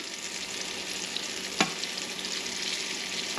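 Small pieces of barracuda frying in a pan, a steady close sizzle with a brief clink partway through, no talking.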